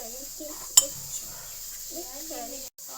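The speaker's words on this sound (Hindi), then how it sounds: "चलो अब इसको हमने मिक्स करना है।" A spoon stirs cocoa cake batter in a bowl, with one sharp clink against the rim and soft scraping under a child's and an adult's talk.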